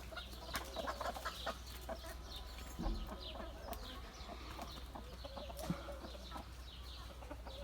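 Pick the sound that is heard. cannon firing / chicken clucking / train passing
chicken clucking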